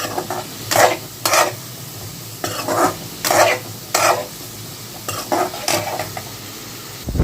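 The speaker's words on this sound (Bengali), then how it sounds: "ভালো করে একটু নেড়ে চেড়ে নেব" Frying food stirred with turmeric and cumin powder in a pan, a steady sizzle under repeated loud scraping strokes of a spoon against metal, arriving in quick pairs and clusters, close and without speech.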